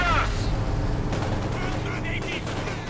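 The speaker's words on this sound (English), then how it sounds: "And there we go, hit from the field gun." Field gun fire in the World War II strategy game Company of Heroes 2, a loud dense burst of booming shots and gunfire at the start, with heavy battle noise continuing steadily throughout the three seconds.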